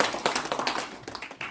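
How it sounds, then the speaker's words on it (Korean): Church congregation clapping at a pastors' workshop lecture, a brief run of uneven, fairly faint hand claps from several people, with no voices over them. "와도 되면 좀 박수 좀 쳐주십시오."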